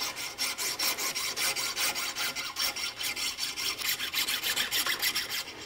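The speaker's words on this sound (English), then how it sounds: "Continue filing down." A chainsaw file rasps back and forth cutting a groove in a fiberglass bow, quick even strokes, a harsh scraping rhythm repeating about five times a second, close up with no talking.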